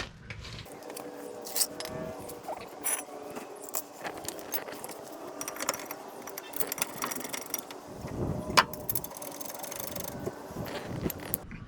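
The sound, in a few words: ratchet tightening rear brake caliper mount on 2007 Scion tC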